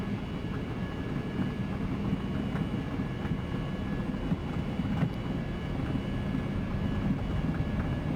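An Embraer 195 jet's engines roar steadily during the takeoff roll in a flight simulator game, a constant broadband rumble and whine at even loudness with no talk.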